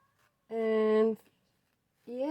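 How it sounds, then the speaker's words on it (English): A cat meows indoors, one long drawn-out harmonic call followed about a second later by the start of a second meow, loud and close with no talking. "it couldn't have been a better moment for the cat to call."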